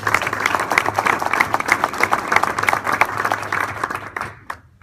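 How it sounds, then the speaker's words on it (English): Audience applause for an introduced rail company executive at a corporate event, a dense sustained clapping from a sizeable crowd that carries through most of the clip before tapering off abruptly near the end. "So let's give him a round of applause."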